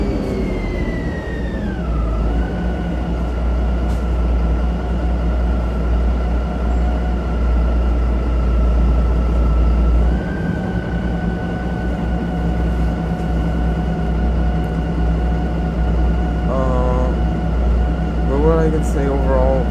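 A MAN NG312 articulated bus in Ljubljana runs with a steady low engine drone and a sustained high wheezing whine that slides in pitch, heard from inside with a voice occasionally talking.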